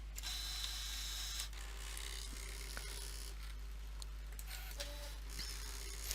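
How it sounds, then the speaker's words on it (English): A Brother ScanNCut machine cutting a vinyl test square, with a soft mechanical whir and faint clicks and ratcheting moving in short bursts over a low steady hum, close and quiet, with no voices. "now the machine's calibrating itself and measuring the thickness of the vinyl, and it's just busy cutting that square"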